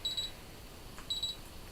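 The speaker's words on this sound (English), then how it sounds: "when it gets too low it'll beep at you" Electronic beeping from a die-cutting or embossing machine as it reaches its lowest setting: two short bursts of rapid, high-pitched pips about a second apart, moderately loud and close.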